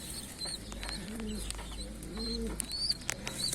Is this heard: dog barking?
no